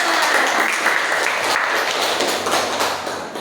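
Applause from a classroom audience during a group presentation session, a steady dense patter of many hands lasting a few seconds at close range, fading slightly toward the end.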